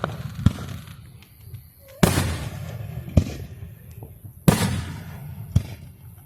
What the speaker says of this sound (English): The missile, this is basically like a short range missile.